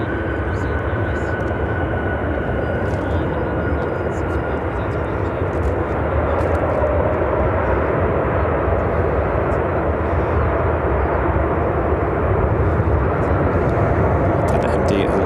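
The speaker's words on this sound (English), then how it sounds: "United Airlines 1006 coming in from Las Vegas on a brand new Airbus" A brand-new United Airlines Airbus A321neo arriving at Chicago O'Hare from Las Vegas produces a loud, steady jet roar with a faint high whine, constant for the whole stretch.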